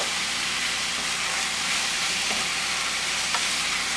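Baby bok choy stirred in a hot pan, a loud, dense, unbroken sizzle and steam hiss close up, with only faint stirring touches beneath it.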